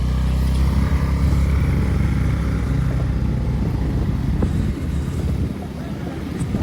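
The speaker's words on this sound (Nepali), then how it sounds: "लिलम दोस्तले बाइक कुदाइरहेको छन्।" A motorcycle is ridden on a dusty road between Kalabajar and Gufapokhari, its engine a loud, continuous close rumble mixed with rushing wind noise throughout.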